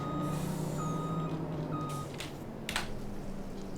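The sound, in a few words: lorry hauling water, Farming Simulator 25 video game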